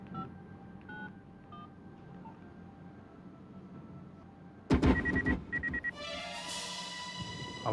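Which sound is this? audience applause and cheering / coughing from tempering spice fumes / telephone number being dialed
telephone number being dialed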